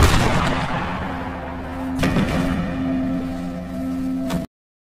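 Two sharp gunshots ring out about two seconds apart over a dramatic film soundtrack, with a booming, cinematic echo, in a film scene.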